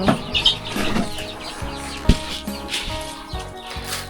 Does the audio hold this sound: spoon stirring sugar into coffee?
no